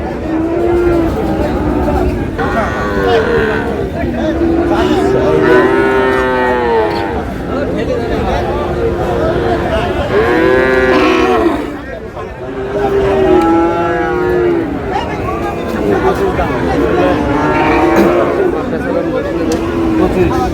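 Cattle moo repeatedly at a livestock market where Sahiwal bull calves are traded, several long low calls rising over a busy background of crowd chatter and voices.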